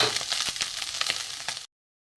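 Small chuno fish fry in oil in a pan, giving a close, crackling sizzle with little pops that cuts to silence, then briefly returns.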